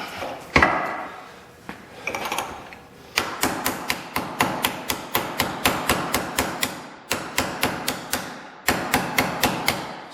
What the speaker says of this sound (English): Tough to keep the hammer tight in there.